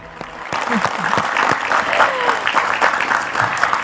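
Studio audience applause during a live Indonesian talk show about the national football team, a steady dense wash of clapping sustained throughout, with faint voices and cheers mixed underneath.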